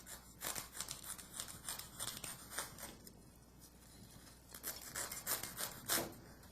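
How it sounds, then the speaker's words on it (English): A simple kitchen knife trims the corners off cookies with repeated short scraping, rasping strokes in an irregular rhythm, close and quiet, with no voice. "I'm going to trim off these corners here. And it's just with a simple kitchen knife."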